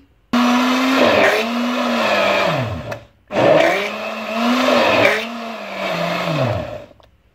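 A close, loud blender whirs through mango and custard juice in two runs separated by a brief pause, its motor pitch rising and dipping as the load shifts, with no talking.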